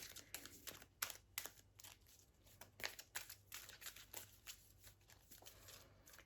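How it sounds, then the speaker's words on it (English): A deck of cards for The 7th Continent board game is shuffled by hand, a rapid series of crisp riffling bursts and soft slaps, close and steady, with no talking. "I'm going to shuffle this and start again for our journey in the submarine"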